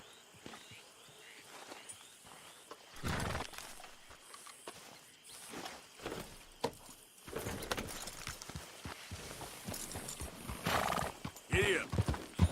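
Horse hooves clip-clop at a run in Red Dead Redemption 2, with a whinny and rider noises, moderately loud and irregular over the game's ambience.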